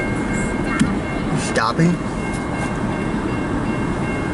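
A CN local freight train, ex-GTW, northbound, gives a steady low rumble as it rolls by at close range, with a brief squeal and a person talking over it.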